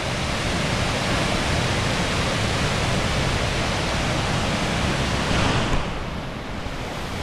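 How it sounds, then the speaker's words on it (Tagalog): Mae Pan waterfall in Chiang Mai roars as a dense, steady rush of falling water, loud and close throughout, easing slightly near the end, with no talk. "Mipan Waterfall."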